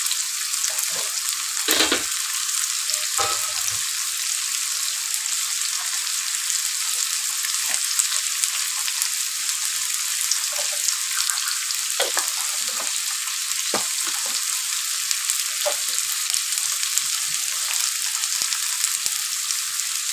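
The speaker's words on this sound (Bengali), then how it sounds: "এটা ভেজে তারপরে দেখাচ্ছি," Thinly sliced bottle gourd peel frying in a pan gives a loud, continuous hissing sizzle throughout, close by, with occasional scraping stirs and light clatters.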